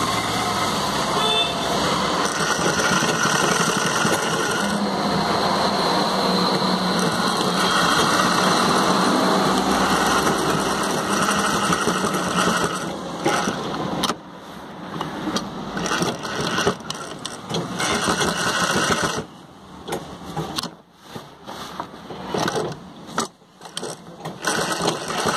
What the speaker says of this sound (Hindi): अब इस पर लव सिलाई चलाएंगे पहले,